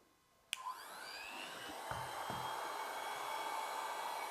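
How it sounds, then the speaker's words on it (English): A hot air plastic welding gun switched on with a click, then a steady, rising blower hiss and whine as it heats up, running alone and fairly close. "now that the weld gun is heated up"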